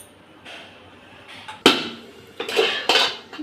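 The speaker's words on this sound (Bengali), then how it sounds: "ঢাকনাটা তুলে নেবো" A metal lid is lifted off a cooking pan on the stove, giving a sharp clank followed by a few lighter clinks and rattles of metal against metal, close and distinct over a quiet background.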